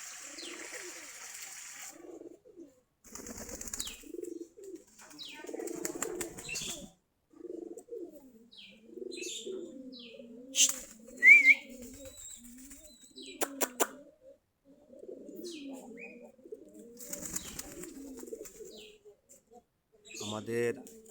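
Giribaz pigeons, part of a flock of about forty pairs kept in lofts, coo repeatedly on a cold winter morning, with soft rolling calls close by, a few chirps and occasional clattering in between.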